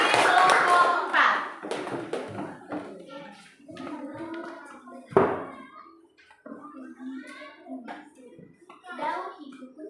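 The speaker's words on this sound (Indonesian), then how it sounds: "tepuk tangan untuk kelompok 3" Children in a classroom clap together in a burst of applause that fades out, followed by young voices talking.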